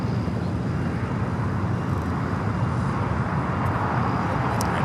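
A United Express regional plane taking off at LAX gives a steady, broad roar of jet engine and wind noise that holds at an even level throughout, fairly distant, with no voices.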